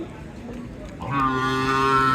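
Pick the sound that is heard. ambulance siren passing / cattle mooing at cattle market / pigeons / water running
cattle mooing at cattle market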